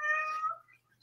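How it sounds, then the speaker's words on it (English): A house cat gives a single clear, close meow that rises and then trails off into quiet room background. "Meow. Meow. Fat kitty."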